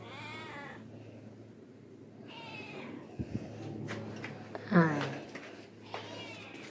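A cat meows a few times, soft at first and then louder, with faint voices and a low hum in the background.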